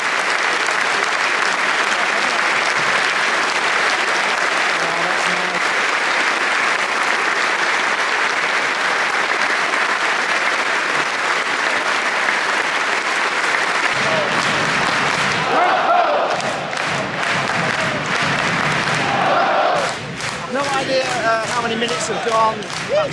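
Sustained applause from a football stadium crowd at a Blackpool FC versus Exeter City match, a long loud wash of clapping with crowd noise and scattered voices that thins and breaks up toward the end.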